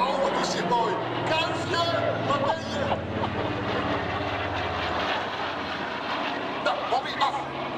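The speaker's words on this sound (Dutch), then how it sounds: "Wat een ongelooflijk mooi vliegtuig is dat." A Douglas Dakota propeller airplane flies past at the Texel airshow, its steady engine drone loud and continuous throughout, with a crowd babbling underneath.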